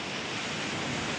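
Ocean waves crash against rock formations along the coast of a small island near Mount Mangainoie, New Zealand, producing a steady, loud wash of surf noise with no voices.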